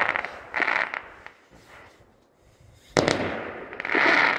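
New Year fireworks crackling and popping at a distance, bursts of sizzling crackle separated by a quieter lull, then a sharp bang followed by dense crackling.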